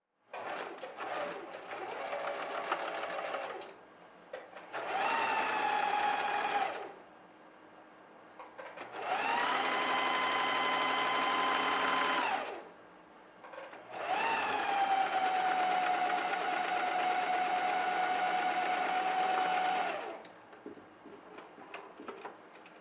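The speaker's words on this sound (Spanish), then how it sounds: "Ahora vamos a pasar costura por la parte inferior." A sewing machine stitches a seam along the lower part of a jumper in four separate bursts of steady, close, whirring running with short quiet pauses between them.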